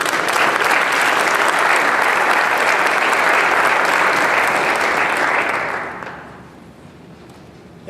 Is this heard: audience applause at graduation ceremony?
yes